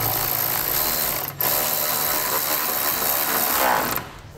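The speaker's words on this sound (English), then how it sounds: "I can take my 13 millimeter and begin to tighten that up" A ratchet with a 13 mm socket tightens a bolt while fitting a Timbren rear suspension enhancement on a 2005 Chrysler, giving a steady close clicking whir with one short break, loud and alone.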